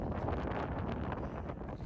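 Steady, cold wind by a lake high in the Andes of Argentina buffets the microphone, a broad rushing roar with gusty fluctuations throughout, no voices.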